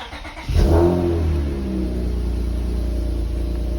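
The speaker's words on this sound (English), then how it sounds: "So now what I do is I clutch in and I turn the car on." With the clutch pressed in, a car engine cranks and catches after half a second, then settles into a steady, close idle.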